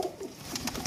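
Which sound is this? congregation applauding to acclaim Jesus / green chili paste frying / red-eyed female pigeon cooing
red-eyed female pigeon cooing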